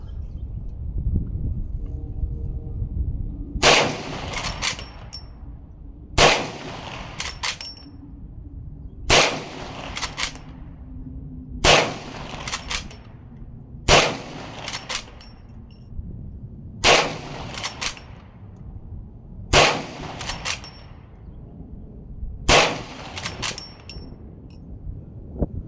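Eight loud gunshots from a Smith and Wesson 1854 .44 Magnum lever-action rifle, fired one at a time at steady intervals of about two to three seconds, each a sharp crack followed by a ringing echo.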